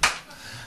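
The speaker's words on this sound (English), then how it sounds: "Jesus, that was an aggressive clap." One sharp, aggressive hand clap cracks loudly and close by, a single brief smack that dies away quickly into quiet.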